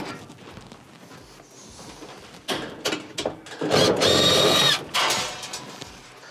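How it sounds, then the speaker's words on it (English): A power drill backs out screws from the broil element of a Whirlpool stove, several short whirring bursts building to one longer loud run, close by with quiet pauses between. "To remove your broil element, first we'll take out the 2 holding screws in the back."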